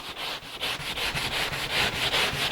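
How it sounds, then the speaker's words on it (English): Coarse-grit sandpaper on a hand block rubs wood in quick back-and-forth strokes, about ten to twelve rhythmic rasps, loud and close with no other sound. "I just use a block, sanding paper, and just very quickly"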